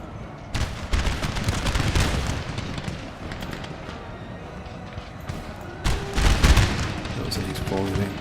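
Musket volleys crack and boom across a Napoleonic battlefield in Napoleon: Total War, dense bursts of massed gunfire rolling in waves, with a second heavy salvo later, all over a constant battle din.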